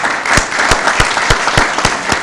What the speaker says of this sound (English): they deserve a round of applause for everything they do